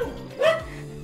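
A village dog gives one short, close bark with a whiny yelp in it, a single call heard alone.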